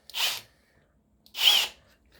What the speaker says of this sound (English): a brushless drill, because regular drills aren't good enough